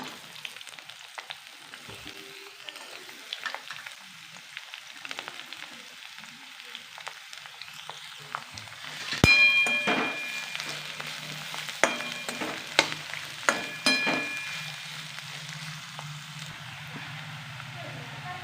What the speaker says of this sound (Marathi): कांदा भाजत आलेला आहे